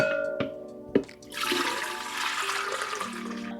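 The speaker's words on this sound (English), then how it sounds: "let me go ahead and pour" Liquid poured into a container while making watermelon treats, a steady splashing gush that starts after a couple of light knocks and runs loud and close to the end, with no talk.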